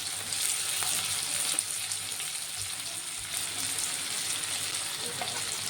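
Chopped onions and green chillies fry in hot oil in a pan used for frying hilsa fish, giving a steady, close, continuous sizzle with faint crackles throughout and no voices.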